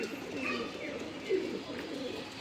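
Low, throaty coos of Punjabi Malwai pigeons at Chhatarpur village, Delhi, repeat softly over a steady background hum, one slightly louder call near the middle.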